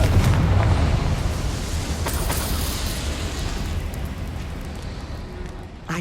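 Confringo blasting spell in Hogwarts Legacy erupts in a loud, rumbling explosion that starts strong and trails off into a sustained low roar with scattered pops, with faint game ambience beneath.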